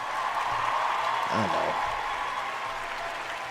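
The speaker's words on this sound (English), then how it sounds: "give yourself a round of applause" Steady applause from an audience runs unbroken from start to finish, with a brief voice rising over it midway.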